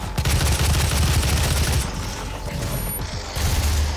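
Rapid automatic weapon fire in the DOOM video game, bursts of close, loud mechanical gunshots that stop briefly and then resume, with no speech.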